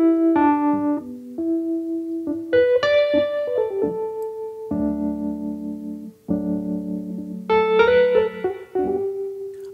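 Instrument played through a virtual amplifier with mono spring reverb, a sequence of sustained melodic notes and chords with a lingering reverberant sheen, clear and unaccompanied by speech.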